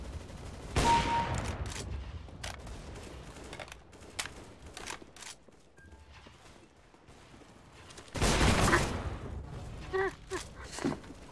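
Bursts of game gunfire, two heavy volleys and scattered single shots, with mechanical clatter between them and no clear talk.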